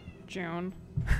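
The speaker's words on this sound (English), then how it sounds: "that's my cat" A pet cat, a female, gives one drawn-out meow near the microphone, a clear rising and falling call lasting about half a second, with a brief spoken word and a thump afterward.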